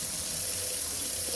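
Hot water runs steadily from a Glacier Bay McKenna pull-down kitchen faucet into a sink, a continuous close hiss and splash with no talking.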